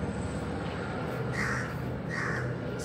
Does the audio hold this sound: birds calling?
yes